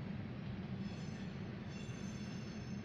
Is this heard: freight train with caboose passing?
yes